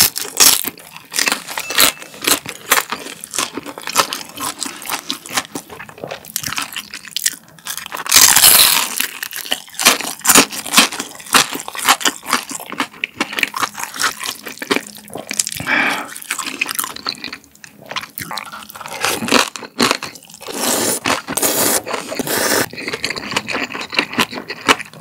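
Fried cheese dumplings being eaten up close, with dense, irregular crunching and crisp wet bites running steadily throughout, some louder bursts, and no talking.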